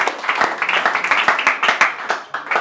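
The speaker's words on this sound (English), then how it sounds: "Round of applause, Ella!" Several people clap in a quick, uneven burst of sharp claps that runs steadily for a couple of seconds, fairly close and with no voices over it.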